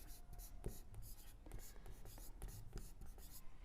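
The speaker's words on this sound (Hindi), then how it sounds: "मैं यहां लिख दूं, मैंने लिख दिया" Chalk or marker scratching out words on a board in a Hindi grammar classroom lesson, a run of short scrapes and taps at close range, with a voice mostly quiet between the strokes.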